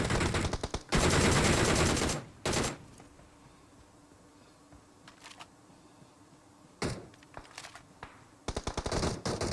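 PUBG Mobile gunfire: loud bursts of automatic fire open the scene, then a single shot and quieter stretches with distant pops, before more rapid bursts close it out.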